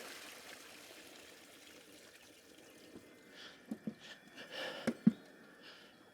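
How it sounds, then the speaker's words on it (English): Water from a pot of cooled sweet corn being drained and dumped out, a faint trickle building into louder splashes and pouring bursts toward the end, with no voices. "Dump all the water out of it."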